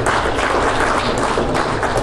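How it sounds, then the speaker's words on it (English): A church congregation claps hands together in praise, a loud, dense burst of many hands sounding continuously and close. "Give the Lord a hand clap of praise."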